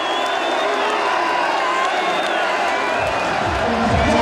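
Dense outdoor crowd cheering and whooping along a trophy parade route for Arsenal, the 1998 FA Cup and Premiership winners, a continuous roar with scattered shouts and clapping, steady and loud throughout.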